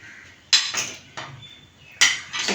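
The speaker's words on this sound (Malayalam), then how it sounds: "അപ്പം ഇനി നമുക്ക് ചിക്കൻ അതിലിടാം." Chicken is tipped into a pot of boiling curry gravy in a home kitchen, with two bursts of metal spoon clinking and scraping against the pan and a quiet pause between them.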